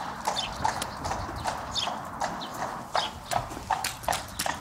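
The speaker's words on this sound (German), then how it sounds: "jetzt musst du traben, wie du noch nie getrabt bist." A horse trots with rhythmic clip-clop hoofbeats at a steady, fairly quick pace, close by and continuous, with no talking over it.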